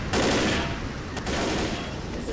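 Gunfire in the zombie shooter Left 4 Dead, a loud burst of rapid shots at the start, a sharp crack near the middle and more firing after it, with faint talk underneath.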